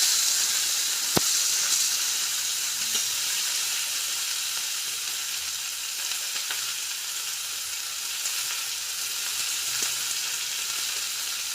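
Green chillies sizzle in hot ghee in a pan while shim bhaja is cooked, a steady dense frying hiss with a few faint clicks of utensils throughout.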